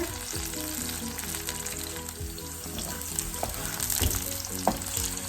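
Bitter melon fries in hot oil with a continuous, dense crackling sizzle and occasional bubbling pops.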